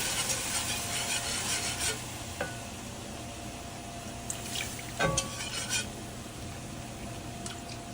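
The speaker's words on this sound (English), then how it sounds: "I'm going to start whisking this in a little bit at a time" A whisk works stock into a brown roux for a seafood stew with potatoes, a quiet, steady scraping and swishing with a few sharper taps against the pot.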